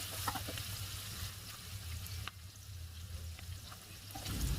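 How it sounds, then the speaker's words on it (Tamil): Sliced onions sizzling and frying in hot oil in a pan while being stirred, a steady close crackle with occasional scraping touches, no talk. "அடுத்ததாக கட் பண்ணி எடுத்து வச்சுருக்கிற பெரிய வெங்காயத்தை ஆட் பண்ணி ஒரு 2 நிமிஷம் அப்படியே நல்லா கிளறி விட்டுக்கலாம்."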